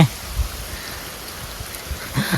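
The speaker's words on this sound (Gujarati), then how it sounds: "વરસાદ તો જોવો આજ પવન નથી પાછો" Steady rain falls outdoors on a farm on a windless day, a close, even hiss of drops with a few low knocks near the start and end.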